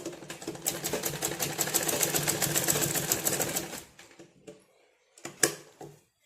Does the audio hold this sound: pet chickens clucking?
no